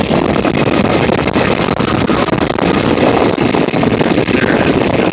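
A Chevy GMC Vortec engine with a broken front exhaust and a faulty exhaust manifold bracket runs loud and harsh, a dense, steady roar with no pauses.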